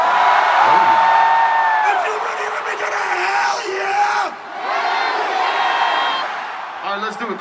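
Concert crowd at a show at Pinnacle Bank Arena in Lincoln, cheering, whooping and yelling loudly and continuously, with scattered high shouts and whistles from the mass of fans.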